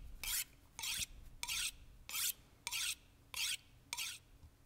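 Knife sharpening in The Long Dark, seven evenly spaced rasping strokes of blade on whetstone, crisp and close over a quiet background.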